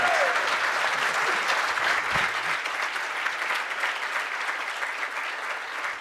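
A conference audience applauds the keynote speaker Charles Payne, a dense, steady wash of clapping that fills the room for several seconds without letup.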